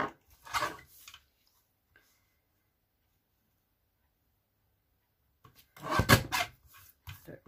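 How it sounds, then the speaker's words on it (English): Paper for a stamped summer card gets trimmed, with a short scrape and rustle, then a pause of silence, then another louder burst of cutting and sliding close by. "I'll just trim this down."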